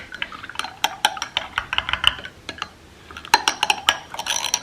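A straw stirs cold brew coffee in a glass, giving light clinks and taps against the sides with a soft swirl of liquid in between. The sounds come in irregular bursts, close and fairly quiet.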